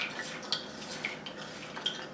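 Utensil scraping and clinking against a bowl while sprouted moong salad is tossed with seasoning, light irregular taps and scrapes, close and fairly quiet, no talk.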